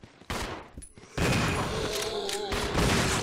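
Gunfire in the Resident Evil 0 HD video game: loud, close shots ring out, followed by a sustained burst of game combat noise, with a player talking over it.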